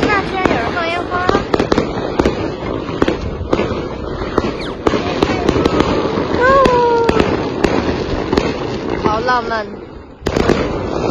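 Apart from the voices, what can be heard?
fireworks being set off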